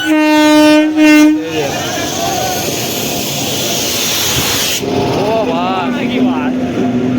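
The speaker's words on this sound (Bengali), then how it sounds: "আমাদের তেভাকা এক্সপ্রেস দেখতে পাচ্ছ আসছে" The Tebhaga Express pulls into Bolla station in Malda during Kali Puja. It opens with loud, sustained horn blasts, then a heavy rolling rumble of the arriving train, with people's voices mixed in.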